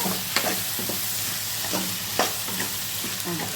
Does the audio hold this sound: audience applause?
no